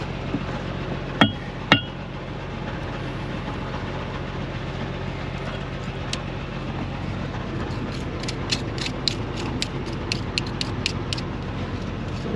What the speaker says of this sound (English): hold on with that sledgehammer a minute. Let's see if we can pound.